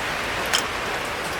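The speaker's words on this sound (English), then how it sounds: "Sure wish it would stop raining," Steady rain falls outdoors, an even hiss of drops with no pauses and a faint tick near the middle.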